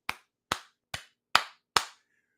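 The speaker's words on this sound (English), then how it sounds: "Andre, that deserves a clap." Five sharp, separate hand claps ring out at a slow, deliberate pace, close and clear, with short decays between them and nothing else in the background.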